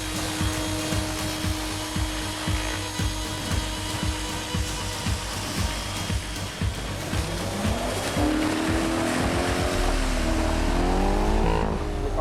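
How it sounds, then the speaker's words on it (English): Cars roar and chase through a cornfield on a film stunt set, a steady loud engine drone with a rising, revving pitch sweep near the end. "The cars are chasing through cornfields"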